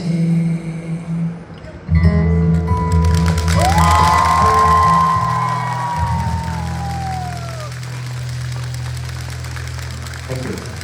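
An audience applauds and cheers loudly and steadily at a live concert performance, with whoops rising above the crowd and clapping sustained for several seconds.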